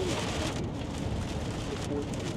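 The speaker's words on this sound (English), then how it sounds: "starting to finally get a little bit out of this heavy rain so we can start to see things again." Heavy rain during a storm chase on the High Plains, a dense, steady hiss of rain pounding the surroundings at constant loudness throughout, with faint gusty rumble underneath.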